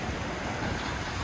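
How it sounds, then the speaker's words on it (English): Ocean waves breaking steadily against the rocks at the end of a jetty in Venice, Florida, a continuous broadband wash of surf mixed with wind buffeting the microphone, fairly loud and close, with no voices. "Them waves are breaking on them rocks pretty good."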